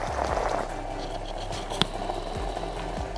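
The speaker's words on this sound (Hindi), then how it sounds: "तो पानी की बॉयल होने की आवाज़ आ रही है।" Water boils inside a Dr Morepen steam vaporizer with a low, rhythmic bubbling and gurgling pulse, close and steady, plus one sharp tick partway through.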